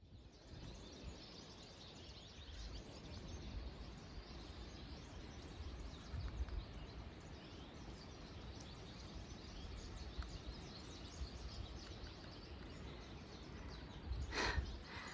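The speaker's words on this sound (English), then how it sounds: "I just wanted you to hear the bird concert." Birds chatter in the Smoky Mountains along the Appalachian Trail, a steady layer of high calls and chirps heard from a moderate distance, faint and continuous with no talking.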